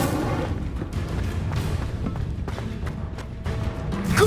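The Incendio fire spell in Hogwarts Legacy bursts repeatedly with booming, crackling blasts over a rumbling wash of battle noise, loud and close.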